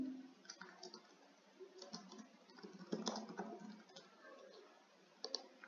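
Course description being typed on a computer keyboard, a quiet run of soft, irregular key clicks and taps with a few louder strokes, close and alone without talk.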